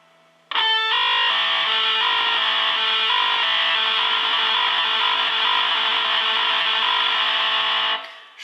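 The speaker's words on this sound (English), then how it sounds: "If you're playing with a lot of distortion, it will definitely sound blurry" Electric guitar with heavy distortion sustains one thick, buzzing, smeared chord-like tone for several seconds after a sharp attack, loud and alone, then cuts off abruptly.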